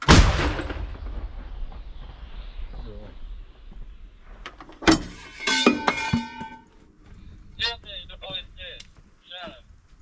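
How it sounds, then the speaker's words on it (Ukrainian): A single loud, sharp blast as an American 105 mm M101 howitzer fires at close range, followed by ringing metallic clanks and shouted voices around it. "Постріл!"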